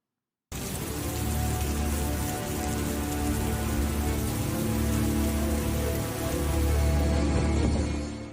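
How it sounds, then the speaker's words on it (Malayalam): Heavy rain pours steadily in Dubai, UAE, a dense, unbroken roar of drops on surfaces that stays loud and close from start to finish with no voices. "UAE-യിൽ ശക്തമായ മഴ തുടരുകയാണ്."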